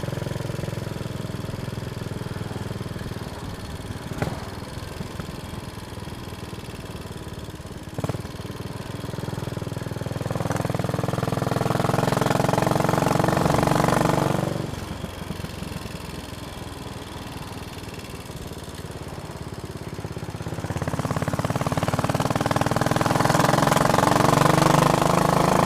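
Motorbike engine on a ride, a sustained mid-pitched drone that swells twice into longer revving pulls, with a softer lull between and a couple of brief knocks early on.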